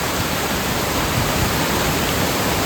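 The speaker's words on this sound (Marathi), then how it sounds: "आणि ह्यो बघा फायनली धबधबो मंडळी, जबरदस्त धबधबो असा." A waterfall at Mangeli Deulwadi during rain pours in a dense, steady, broadband roar, loud and unbroken with no other sounds.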